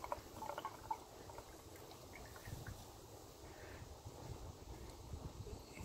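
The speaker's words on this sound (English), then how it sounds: "And now look how much oil I can pour and how fast." Motor oil glugs quickly from a bottle held sideways into the engine of a Lexus RX350 SUV during an oil change, a faint, low, continuous liquid rush with soft bubbling, heard alone and fairly quiet.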